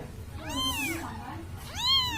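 An Angora-cross baby kitten with a village-cat mother gives two clear, close, high-pitched meows, one after the other, with a short pause between them.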